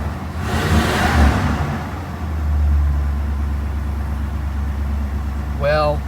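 A 1966 Ford Galaxie 500 engine running steadily after a start, a low warm idle rumble that swells once and then holds even, close by, with a person talking over it.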